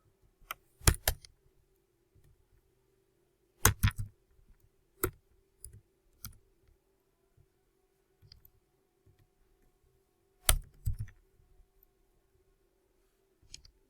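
Sparse keystrokes on a computer keyboard, clustered in short bursts of sharp clicks with long pauses between, close and fairly quiet, while questions and answers are typed into an online quiz activity.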